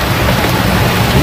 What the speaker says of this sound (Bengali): মারাত্মক ঝড় হচ্ছে